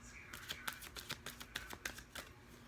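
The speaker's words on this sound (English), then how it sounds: "I think this is the last shuffle." A deck of cards is shuffled close up, a rapid rhythmic riffle of crisp flicks over a quiet background.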